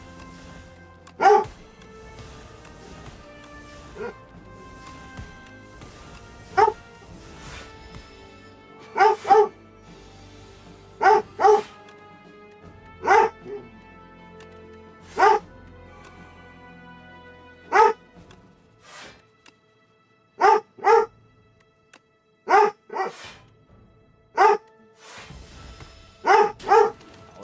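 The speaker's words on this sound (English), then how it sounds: "Apologies for the barking." A dog barks indoors in sharp single and double barks spread irregularly over a long stretch, fairly close and loud against a quiet background, with a few softer yips.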